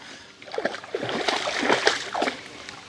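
Irregular splashing and sloshing as a dog jumps into lake water nearby, a few bursts of churning in quick succession.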